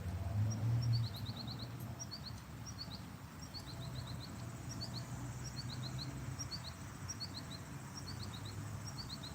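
A small bird in a park sings a repeated high, quick twittering phrase every second or so, faint and distant over a low steady background hum.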